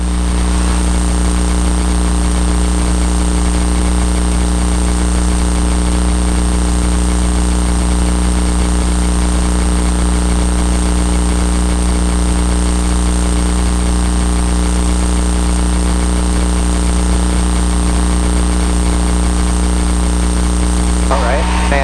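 A Cessna light aircraft's piston engine drones steadily and loudly through the takeoff roll. Its tone stays constant, with strong low harmonics and a faint propeller whine, and it continues unbroken for the full stretch.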